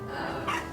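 A pet dog barks once indoors, a short muffled bark at moderate distance.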